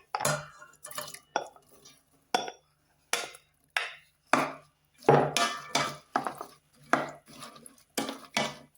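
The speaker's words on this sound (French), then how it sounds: "On va bien mélanger et rajouter notre gombo" Okra sauce being stirred in a cooking pot, a spoon scraping and knocking against the pot in repeated short bursts with brief pauses between strokes, fairly close and moderately loud with no talk.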